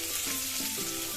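Onions fry in a pan in a home kitchen, a close, steady, bright sizzle with crackling that stays continuous for the whole moment.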